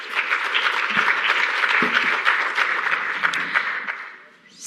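Audience applause at a climate resilience symposium: a room full of people clapping steadily for about four seconds before it thins out and fades.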